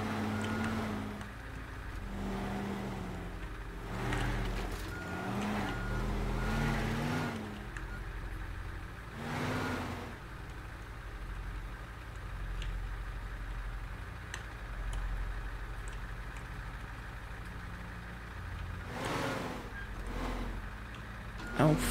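A lorry's engine in Teardown hums low and steady as it drives and reverses, with ticking noises and a few louder bumps, while someone talks over it.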